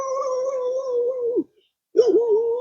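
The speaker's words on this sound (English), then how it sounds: "My dog is running like crazy." A dog howls up close in two long, mournful howls, the second beginning with a wavering rise after a short silence.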